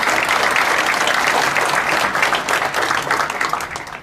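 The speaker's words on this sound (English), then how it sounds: "If we could give them a round of applause for their achievements this year." Dense, steady audience applause at a graduation ceremony, many hands clapping continuously at full strength before easing slightly near the end.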